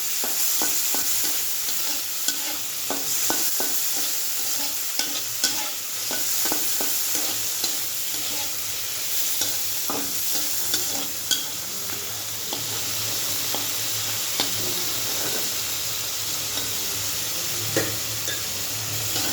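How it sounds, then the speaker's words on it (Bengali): Prawns and chili fry lightly in hot oil with a steady close sizzle, broken by repeated scraping and stirring clicks throughout, and no voices. "দেখো, তেলটা গরম হয়ে গেছে, আমি চিংড়ি মাছটা হালকা করে ভাজি, লঙ্কাও করে দেবো, খুব হালকা করে ভেজে নেব।"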